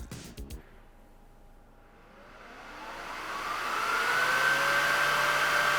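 Improvised fans on a computer cooler spin up from a quiet start into a loud, rising whine with a rushing airflow hiss that levels off at full speed, preceded by a few brief clicks.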